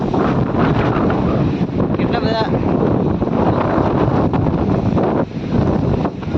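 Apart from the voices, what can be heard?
strong wind blowing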